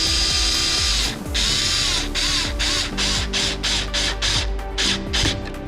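Metal clamp being tightened down on a test rig, giving a run of rhythmic ratcheting and scraping mechanical clicks, loud and close, repeating steadily with a brief pause early on and no talk.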